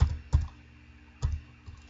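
Three sparse, soft thuds of keys on a computer keyboard, spaced unevenly and close, with quiet gaps between and no speech.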